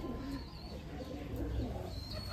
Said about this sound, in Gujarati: આમાં દેશી ને જે વાઇટ કબૂતરા આવે બંને છે